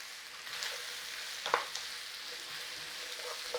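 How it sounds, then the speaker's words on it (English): Bacon and onion sizzle softly and steadily in a pan, a gentle continuous frying hiss with a couple of faint clicks of stirring. "softening that onion with that bacon"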